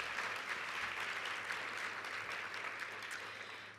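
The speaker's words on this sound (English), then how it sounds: "Give yourselves a round of applause" An audience at a closing keynote for educators claps together in a broad, steady wash of applause that holds through and tapers slightly at the end, heard from a distance with a faint low hum.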